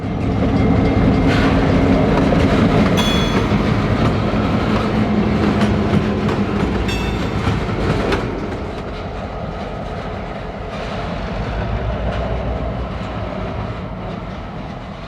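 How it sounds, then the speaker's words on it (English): An Iowa Interstate freight train heading south rumbles past with steady, loud rail noise and clickety-clack of wheels over joints, a few metallic squeals near the start, fading slightly toward the end. "With our Iowa Interstate train heading south"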